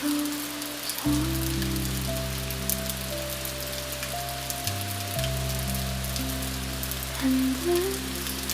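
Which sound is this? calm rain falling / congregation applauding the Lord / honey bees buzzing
calm rain falling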